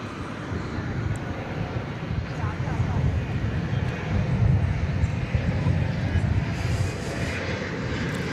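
A Qantas Boeing 747 airliner approaching DFW Airport, a continuous low engine rumble and whine that swells a little mid-way, heard from a distance while a commentator talks over it.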